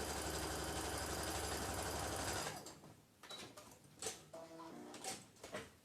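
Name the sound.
sewing machine stitching two pieces of fabric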